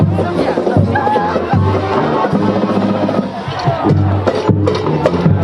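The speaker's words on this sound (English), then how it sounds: "It's a busy crowd, obviously." A busy crowd of hockey fans returning home after a championship win, a dense continuous hubbub of many voices and chatter close around, loud and steady with occasional louder calls.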